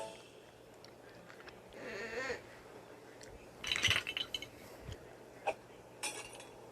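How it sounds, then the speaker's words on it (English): A child plays with plastic Duplo toy bricks indoors, producing scattered clattering knocks and clicks, a few louder bursts among quieter rustling, with faint voices in the background. "And Rosie's just playing with her Duplos. That's what that sound is coming from."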